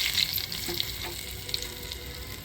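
Garlic and curry leaves hit hot oil with a lively close sizzle and spatter, a few sharp crackles over steady frying and light stirring, with no speech.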